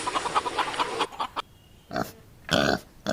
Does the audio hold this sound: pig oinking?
yes